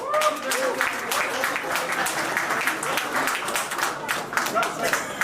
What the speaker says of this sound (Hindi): अब तालियों से ही बता दो यार कि कैसा लगा ट्रेलर आप लोगों को।